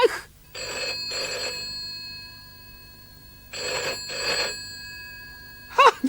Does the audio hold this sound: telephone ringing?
yes